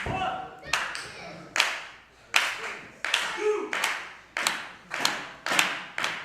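Wrestling crowd at a CZW Dojo Wars event claps in a steady rhythmic beat to rally the wrestlers, about a dozen sharp, fairly close claps over a few seconds, with no talk on top.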